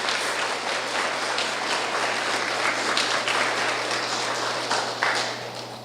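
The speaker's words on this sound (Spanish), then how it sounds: "Démosle una ovación al Padre." A church congregation gives a sustained ovation, a dense, continuous roar of many hands clapping at steady loudness with a low hum underneath and no voices on top.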